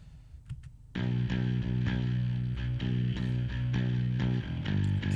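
A bass guitar line blending direct-input signal, an amplifier rig and room microphones plays a steady, punchy riff of repeated plucked notes with full low end, starting abruptly after a short quiet lead-in and running alone in the mix.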